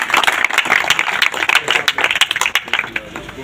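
A village crowd at a political rally in Haryana claps loudly and densely for several seconds, while someone speaks over a loudspeaker on top of the applause.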